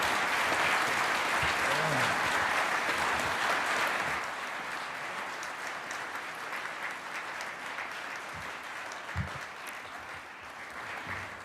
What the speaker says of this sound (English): One more time, big round of applause for an inspired leader.